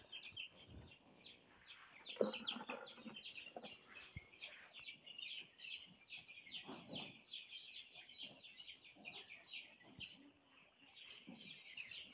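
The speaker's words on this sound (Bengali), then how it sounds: "তার জন্য মুরগি ধরা চলতেছে" Flocked farm chickens cluck and squawk in a busy, faint chorus as birds are caught for weighing, with scuffles and sharper bursts of alarm scattered through.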